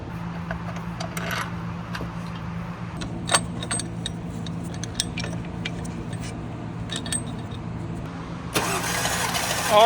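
A Porsche Cayenne engine cranks over steadily during a compression test, a continuous mid-pitched churning with small clicks and rattles on top, ending with a louder burst near the close.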